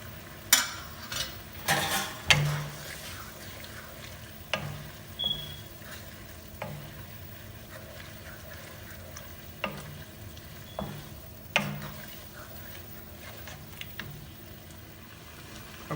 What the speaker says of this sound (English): And I'm going to add these vegetables to it and let it simmer for another minute.